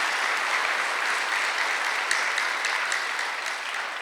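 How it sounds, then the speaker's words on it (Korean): A church congregation at a Korean Sunday worship service claps together, producing dense, steady applause that holds at an even level from start to finish with no voices above it. "믿는 사람만 박수 하나 돌려보세요"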